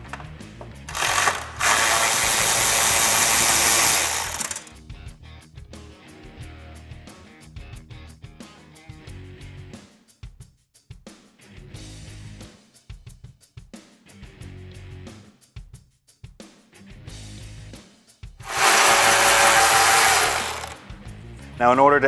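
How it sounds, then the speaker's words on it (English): Ratchet wrench with a 10mm socket backing off the row of nuts along the rear side of a 2018-2022 Ford F150 bumper during a skid plate install, with a pair of loud bursts of rapid clicking near the start and end separated by quieter handling noises. "Taking your 10mm socket,"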